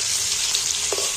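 Potatoes fry in hot oil with a bright, steady sizzle and a brief stir of the pan near the end, with no talk.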